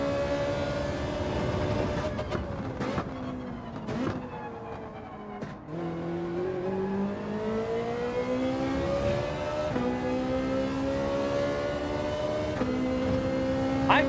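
Ferrari Group 4 race car engine in Gran Turismo 7, a steady high-pitched drone with rising and falling pitch through gear changes and throttle lifts, loud and continuous throughout with no talk over it.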